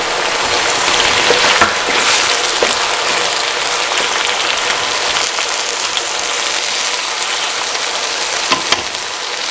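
Potatoes fry in a pan with crushed garlic and ginger, giving a steady, loud, dense sizzle that holds throughout with occasional small crackles and no talking.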